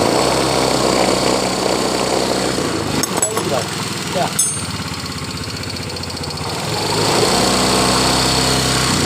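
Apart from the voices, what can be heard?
Yamaha Mio scooter engine idling while warming up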